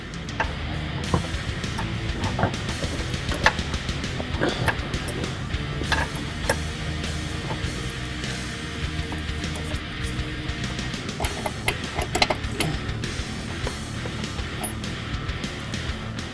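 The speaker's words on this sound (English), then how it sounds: "Now we can start hand tightening the hardware." Sway bar bracket bolts on a 2015-2020 Mustang are threaded in by hand with a Whiteline kit, producing a run of small metallic clicks and light rattles against a low background hum.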